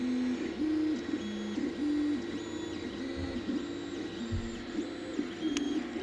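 An Anycubic 3D printer prints a spiral, its stepper motors whining in shifting stepped tones with a steady hum underneath, close and moderately loud.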